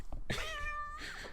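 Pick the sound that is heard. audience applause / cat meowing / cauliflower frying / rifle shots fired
cat meowing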